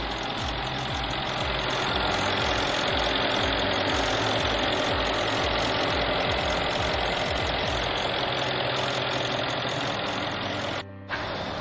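A 2014 Mercedes-Benz ML63 AMG engine runs steadily at idle with a loud, close, even rumble and a faint regular ticking pulse, briefly cutting out near the end.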